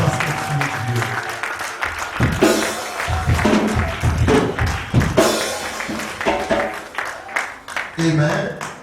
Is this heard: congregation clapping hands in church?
yes